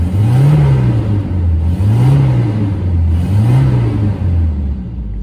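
A Nissan 240SX engine idles steadily after a no-start repair, its low rumble swelling in three slow, even surges like light revving, loud and close with no talking.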